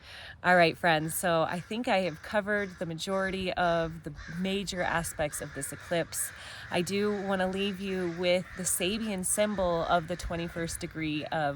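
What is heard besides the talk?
crows cawing in the background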